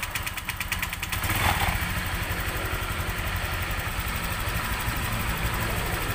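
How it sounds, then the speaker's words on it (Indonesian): Honda Vario scooter engine starts and settles into a steady, rapid idle pulse, close and continuous with a faint mechanical clatter. "Kita hidupkan motornya teman-teman ya."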